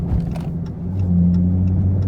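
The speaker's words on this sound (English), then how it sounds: "Is that a Hellcat?" A Dodge Hellcat passing nearby in traffic, giving a deep, steady engine rumble that rises slightly in level partway through, heard from inside a car on a rainy drive with no talking.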